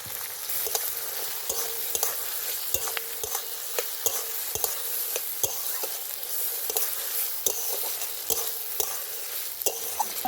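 Spoon scrapes and stirs through mustard paste, frying small puti fish and green tomato for a Bengali chorchori, giving a steady sizzle with sharp, regular clinks against the pan throughout.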